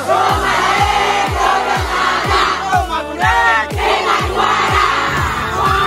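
At a Malaysian secondary school sports meet, a sports house's cheering squad chants in loud, rhythmic unison, punctuated by steady, regularly spaced low thumps like drumbeats, with no pause across the whole stretch.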